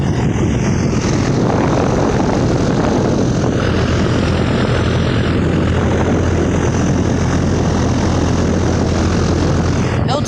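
Ruud Achiever 4-ton central air conditioner unit with a scroll compressor and fan, running in cool mode: a loud, close, constant whooshing fan roar with a steady low hum underneath and no break.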